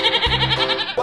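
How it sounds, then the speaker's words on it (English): A goat gives a short, close, wavering bleat, loud and nasal, heard alone in a cartoon animal-transformation scene. "Goat."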